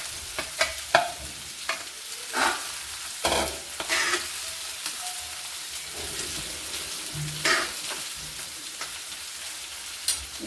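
Sabudana (sago pearls) frying in a pan with chillies, giving a soft steady sizzle broken by repeated scraping stirs of a spoon, close and fairly quiet with no talking.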